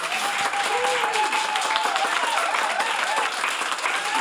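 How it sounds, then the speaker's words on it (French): A church or celebration audience applauds a family, a dense steady wash of clapping from many hands lasting throughout, moderately loud and fairly close, with no talking over it. "C'est une belle famille, on va les applaudir."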